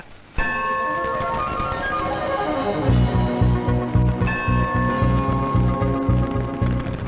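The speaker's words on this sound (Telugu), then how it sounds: "చూపించమని నోటు తడితే వినపడదమ్మా, గంట కొట్టి అడగాలి" A temple bell is struck repeatedly, loud and close, its ringing tones sustaining and layering into a steady, rhythmic clanging throughout.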